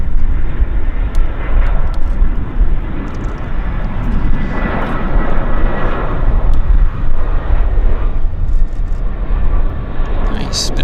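A passenger airplane touching down in a crosswind at Vancouver International Airport, heard as a loud, steady roar of engine and rushing air throughout, with people talking over it.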